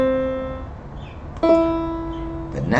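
An instrument plays a musical interval of a third in a music theory lesson: two clear sustained tones sound in turn, each decaying gently, close and alone.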